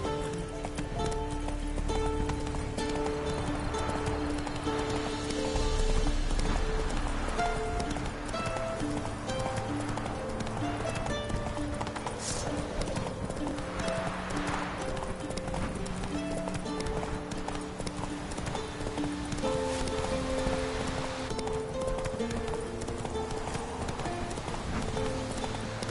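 Roach, a horse in The Witcher 3 video game, gallops on and on with a rhythmic clip-clop of hooves, steady and close, under game music and ambient sound.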